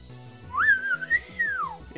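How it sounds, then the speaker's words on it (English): Marshadow lets out a single bright, rising-and-falling whistle as it faints in a Pokemon Showdown battle, heard over a busy game soundtrack. "It whistles at me as it dies."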